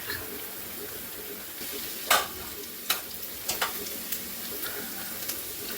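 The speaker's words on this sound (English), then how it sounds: "we'll just let those saute for a minute" A soft, constant sizzle of onions sautéing in a pan, broken by a few sharp clinks and scrapes from a stirring utensil.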